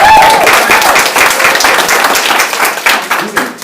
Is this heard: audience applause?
yes